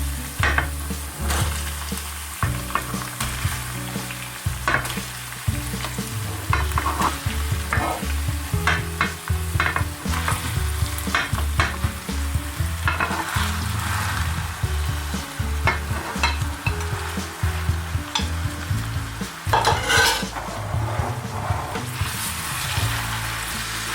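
Lamb mince frying in a pan with cooked ginger-garlic paste, a continuous close sizzle broken by repeated scraping and clacking as it is stirred, steady and loud throughout with no talking.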